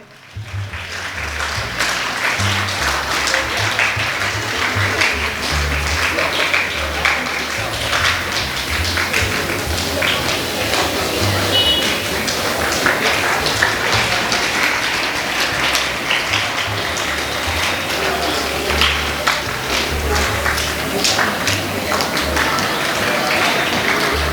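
Sustained applause from guests at a school retirement function for a teacher, a continuous dense roar of many hands clapping in a hall that holds steady and loud for the whole stretch, with some low rumble underneath.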